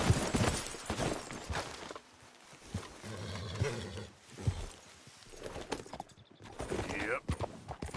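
Horse hooves clip-clop steadily as a rider travels on horseback in a video game, blended with rough growling animal noises and a busy, loud game soundscape, with voices talking over it.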